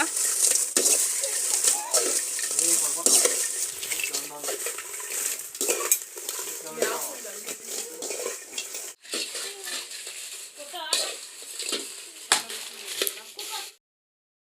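Dried chillies roasting in a little oil in a pan for homemade sambar powder: a steady light sizzle with repeated scraping and stirring of a utensil against the pan, close and fairly quiet.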